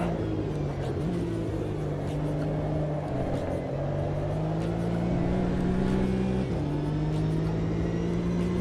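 Porsche GT4 race car in Automobilista 2, engine holding a steady loud drone with rising pitch sweeps as it accelerates through the gears, continuous and close throughout.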